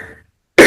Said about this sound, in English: I'm going to have to stop for a second and cough.